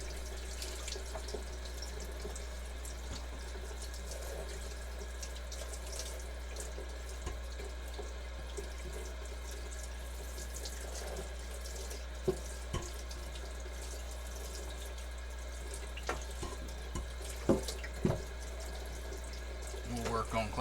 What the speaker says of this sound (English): I am going to run some hot water over this beater